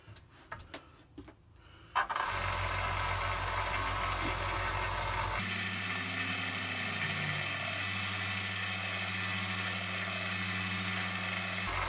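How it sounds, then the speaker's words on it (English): A kitchen knife is ground on a spinning 600-grit sanding belt: after a few faint knocks, a steady loud motor drone starts, then a brighter rasping grind with repeated strokes sits over the belt's hum. "The belt is spinning this way, so never sharpen your knives this way, always down."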